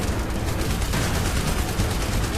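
A sustained barrage of gunfire from the Terminator Salvation PC game fills the whole stretch, loud and unbroken, with rumbling battle noise underneath and no voices.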